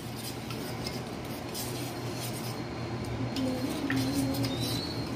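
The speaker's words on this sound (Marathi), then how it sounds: "आता आपल्याला छान असं मिक्स करून घ्यायचं आहे" A spoon stirs lemon juice and sugar into a glass of sharbat, soft rhythmic scraping and light clinks of metal against glass, close and fairly quiet, continuing steadily throughout with no talking.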